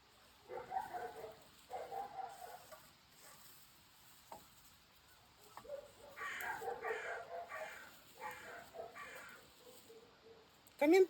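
Several bursts of loud, harsh crow cawing come in rhythmic groups of calls with quiet gaps between them, heard outdoors alone.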